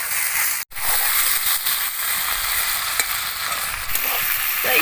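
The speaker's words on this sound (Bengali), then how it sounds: "তো এখানে চিকেনটা আমি 5 মিনিট অল্প আছে একটু ভেজে নিয়েছি।" Chicken pieces frying in a pan for a village-style stew, a loud continuous sizzle with occasional stirring scrapes and one brief dropout, no talking.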